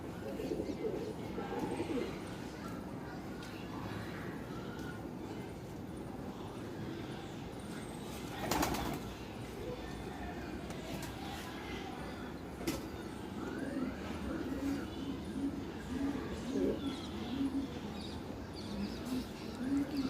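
Pet pigeons cooing around a house with a big tree in the morning after feeding, soft repeated coos over a steady murmur, with a couple of brief sharp flapping bursts standing out.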